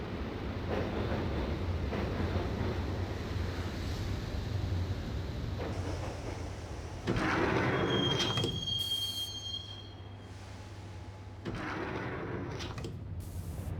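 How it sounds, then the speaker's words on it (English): A subway train ride in the video game Max Payne, with a continuous loud rumble of wheels on rails, squealing metal and sliding-door thumps as the ride goes on, no voices. "the train doors had already shut behind me, and I was in for the ride."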